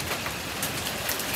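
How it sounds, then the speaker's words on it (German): Hail pounding down in a summer storm in June 2021, a dense, steady hiss of hard pellets hitting surfaces close by, loud and continuous with no voices over it. "Oh, es hagelt."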